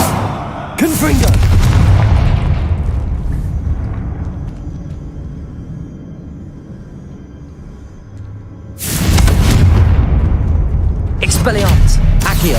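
Confringo blasting spell explosions in Hogwarts Legacy, two heavy booming blasts several seconds apart, each with a loud rumbling tail, under a speaking voice.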